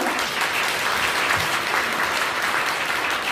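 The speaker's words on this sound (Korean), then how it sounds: "박수 주시죠." A crowd at a Korean lawmaker's final constituency report meeting breaks into dense, sustained applause, loud and even from start to finish.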